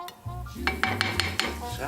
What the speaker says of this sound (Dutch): Dus ik doe nou de visjes even. Bakken in boerenboeter.